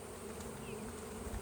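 Honey bees buzzing around frames from a struggling hive: a faint, continuous droning hum from many insects close by, without talking.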